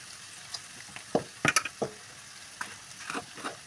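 Cabbage sautéing in a pan for egg noodles, a soft sizzle with a few sharp spatula scrapes and stirring clatters close by, fairly quiet overall.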